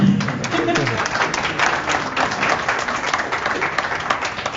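Audience clapping at a talk on exercise for people with spinal cord injury: a dense, steady wash of applause across the whole stretch, with a voice briefly audible at the very start.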